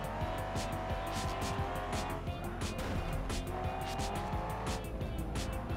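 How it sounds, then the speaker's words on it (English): An Audi race car roars through a racing video game at Mazda Laguna Seca, its engine droning steadily while tires squeal and chirp in quick bursts as it rubs against other cars. "This Audi has tons of power and tons of traction."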